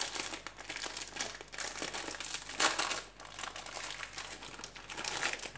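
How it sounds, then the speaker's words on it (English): Plastic wrappers around individually packaged cake bars crinkle and crackle continuously at close range, in uneven bursts with a brief lull midway and no talking. "each individual bar is in another plastic wrapper"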